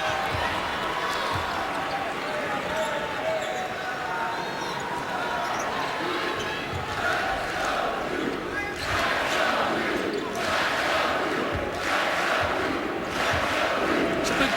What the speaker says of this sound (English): Crowd counting down the shot clock.